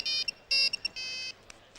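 A mobile phone ringtone plays alone, a series of short bright electronic tone bursts in an irregular pattern lasting under two seconds.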